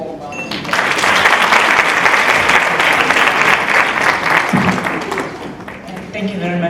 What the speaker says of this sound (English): Please give her a very warm round of applause.